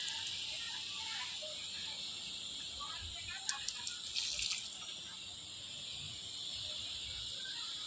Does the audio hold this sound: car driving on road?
no